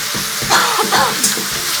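Food sizzles and crackles steadily in a hot pan, a close hissing texture with a few brief bursts of louder spatter.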